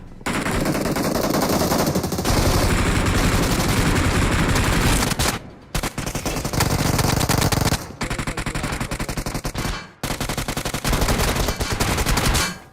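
Rapid automatic gunfire from a shooter video game, loud bursts of machine-gun fire broken by short pauses, several sustained volleys with no talking.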